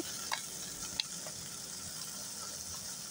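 Tomatoes and onions frying in hot oil in a pan, a steady close sizzle with a couple of sharp clinks of a utensil against the pan.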